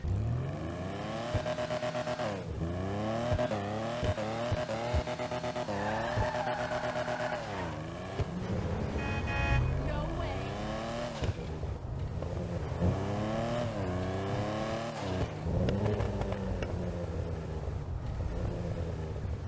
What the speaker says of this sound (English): I'm going to go ahead and let you guys hear what this thing sounds like